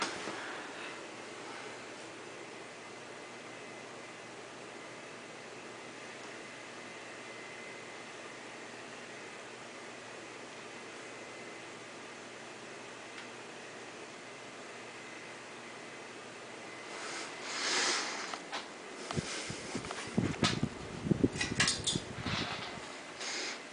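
A 2001 Hunter Original ceiling fan, fully oiled, runs on medium speed with a steady, even airy whoosh and faint hum, joined near the end by louder handling clatter and bumps close by.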